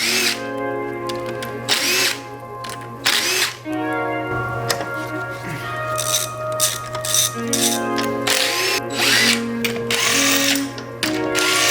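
A power tool works on the hub of a Toyota pickup, firing in short rattling bursts with gaps between, close and loud over a steady background hum.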